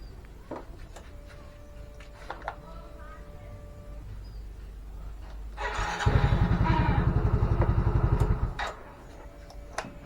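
A stalled Yamaha Soul GT 115 scooter with a YMJET-FI engine is started. It cranks and catches with a loud, pulsing idle for about three seconds, then cuts out, leaving faint ticking and background noise.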